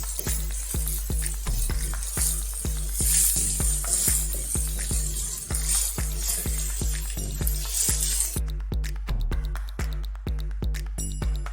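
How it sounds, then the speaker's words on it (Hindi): Chopped onions sizzle and fry in a pan over a high flame while preparing stuffed capsicum, a steady loud hiss broken by regular stirring scrapes, with no talking. "अब प्याज जो है अपना पानी छोड़ेगा, तो इस वजह से इसको हमने अच्छी तरह से फ्राई करना है"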